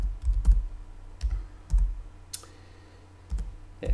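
Keystrokes on an American-layout computer keyboard while a command is entered, heard as a few separate bursts of clicks with pauses between them, close and fairly quiet.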